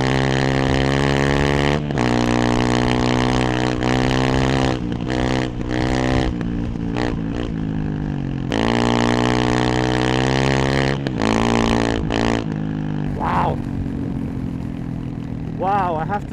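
A Honda CRF300 motorcycle with an ECU, airbox and exhaust tune rides in fifth gear, its engine droning loudly and up close through repeated throttle surges and drops, then easing off.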